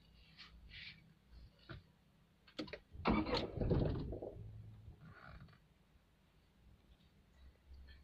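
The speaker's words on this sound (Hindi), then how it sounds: "अब मैं गाड़ी का इंजन स्टार्ट करूँगा तो आप देख लेना ये कितना वाइब्रेट करता है" A Tata Tiago car engine cranks and catches in one loud burst, then fades after a few seconds as it is switched off again. Faint clicks come before it, with no talk.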